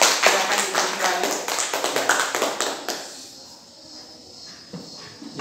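Students clap their hands together in a classroom, a rapid burst of sharp, fairly close claps for about three seconds that then stops, leaving quiet room tone with a few faint taps.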